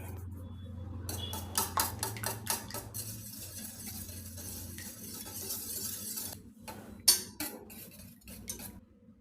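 Egg is whisked in a bowl with turmeric, pepper and salt, giving quick clinking, tapping strokes in bursts with short pauses between them, close and moderately loud over a faint low hum, with no talking.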